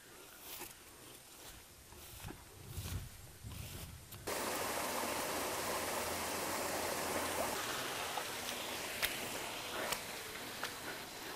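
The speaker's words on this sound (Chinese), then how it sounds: "我在田边稍微洗了一下，" Freshly dug jicama is washed in somewhat muddy water at the edge of a field, a constant rushing and splashing of water that starts abruptly and continues steadily.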